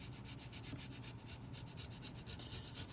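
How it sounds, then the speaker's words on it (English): The edge of a six-inch rule scrapes glue off the underside of a guitar soundboard in a fast, even series of faint rasping strokes, close and steady throughout. "Okay, now let's get rid of this glue. The edge of the 6-inch rule works really well."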